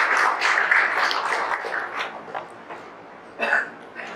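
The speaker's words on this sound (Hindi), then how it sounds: "अभिनव चंद्रवंशी के लिए जोरदार तालियां बजाइए" An audience at a coaching institute's toppers' talk claps for Abhinav Chandravanshi. A fairly loud burst of applause fades over a couple of seconds, then a short, sharper flurry of claps comes near the end.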